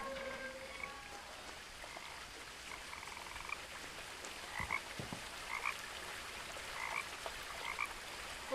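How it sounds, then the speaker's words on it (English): Frogs croaking in the video game What Remains of Edith Finch: repeated short chirpy croaks from several frogs, fairly quiet, over a soft, constant rain-like hiss, with no talking. "Listen to them frogies croaking."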